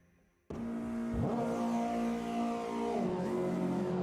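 A Ginetta G40 race car engine in the video game Automobilista 2 starts up suddenly, then revs and climbs in pitch. It holds a loud, steady drone before easing back slightly at the end, with no talk.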